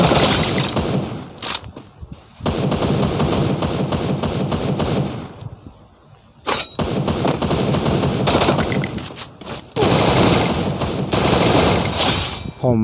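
Rapid automatic gunfire in a shooting video game, loud, dense bursts of shots that run for several seconds, break off in short gaps, and then resume, with some speech mixed under the firing.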